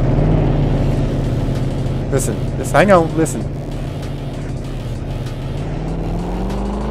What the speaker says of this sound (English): Now, listen to this truck as he leaves